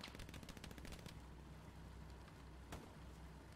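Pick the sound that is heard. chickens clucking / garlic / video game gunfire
video game gunfire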